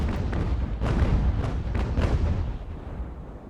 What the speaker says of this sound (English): So I've switched over to canister shot, and seems to be working out so far.